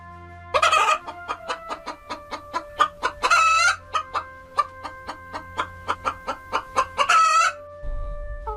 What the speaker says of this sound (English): To make the low, interrupted noise that a hen makes.